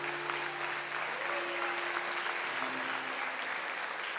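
Church congregation clapping steadily throughout a worship service, a dense continuous wash of applause filling the room, with a faint sustained tone underneath.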